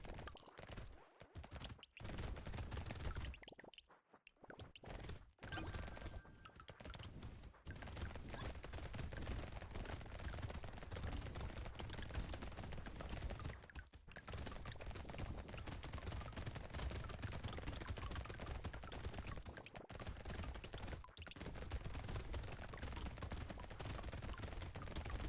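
Automated turrets fire in the arena shooter Brotato as a dense, unbroken barrage of rapid shots and impacts, loud and layered with other game effects for the whole stretch.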